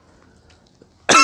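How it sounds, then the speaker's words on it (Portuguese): After near silence, a single sharp, loud cough bursts out from someone walking on a neighbourhood street. "eu tô tossindo"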